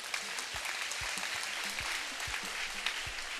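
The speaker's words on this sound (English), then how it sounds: "Please give a big applause for her." Steady audience applause at a school event, dense and sustained from start to end with a few low thumps underneath.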